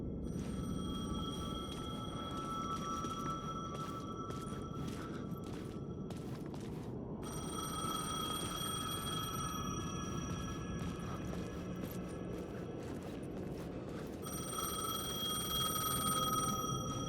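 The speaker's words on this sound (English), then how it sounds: "The payphone was ringing." A payphone in the video game Alan Wake 2 rings in repeated bright electronic bursts with short gaps, steady and moderately loud over a constant low ambient rumble, with no voices.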